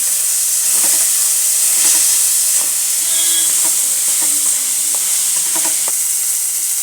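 Peas tipped into a hot pan with oil and broken chilies for methi matar malai raise a steady hiss and sizzle, with light scrapes and taps of stirring scattered through.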